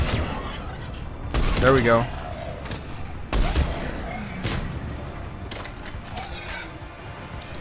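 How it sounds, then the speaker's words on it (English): Heavy rifle shots from the Black Widow sniper rifle in the Mass Effect 3 video game, two loud booming blasts a couple of seconds apart amid game music and combat noise, with someone talking between them. "Man, the Black Widow does serious damage."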